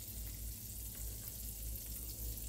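Bread soaked in an egg and milk mixture fries in a buttered skillet over medium-high heat, giving a steady, close, continuous sizzle with no talking.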